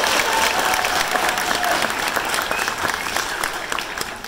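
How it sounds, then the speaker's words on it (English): Loud, sustained applause from a Christmas concert audience after a trumpet solo, with dense clapping and some crowd noise throughout. "Let's give her a round of applause for her solo."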